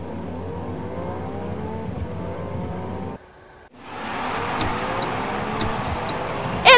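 A cartoon racing car drives with a siren, a droning engine and whine that cut out briefly, then swell back with rising tones and a few sharp ticks near the end.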